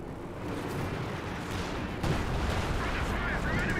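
A creeping artillery barrage in the video game Company of Heroes 2: a dense, continuous wall of rumbling shellfire that swells with a heavier thud midway and keeps pounding steadily to the end.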